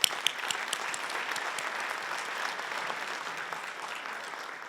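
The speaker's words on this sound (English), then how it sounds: "So big round of applause." A crowd at a Teacher of the Year awards ceremony applauds steadily, a dense wash of clapping that holds at an even level for several seconds.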